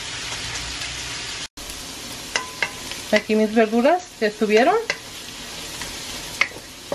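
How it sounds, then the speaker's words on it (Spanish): Vegetables for chow mein sizzle and crackle in a hot pan while being stirred, with a person speaking briefly in Spanish over the frying. "Vamos a freír el resto de las verduras."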